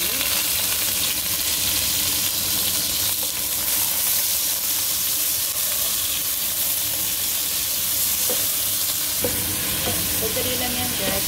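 Beef frying in a pan gives off a steady, close, dense sizzle with hissing steam, and occasional stirring scrapes sound beneath it. No one speaks.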